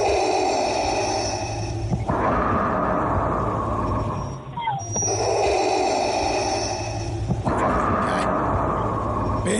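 A Darth Vader breathing sound effect: a mechanical respirator hisses through slow, loud, steady inhale and exhale cycles, each lasting a few seconds, with no other sound.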